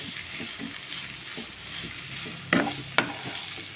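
Maggi noodles are stirred in a frying pan over a gas flame, with soft sizzling and a couple of sharp scraping knocks of the spoon against the pan near the end.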